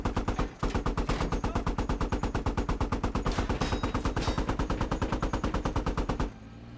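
Sustained rapid automatic gunfire aimed at a tank in the military shooter Squad, loud and close, with a steady stream of rounds for about six seconds before it cuts off abruptly.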